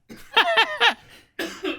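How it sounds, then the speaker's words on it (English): A burst of harsh, voiced coughing, three quick hacks in a row followed by a pause and one more rough cough, close and fairly loud. "It's that COVID cough."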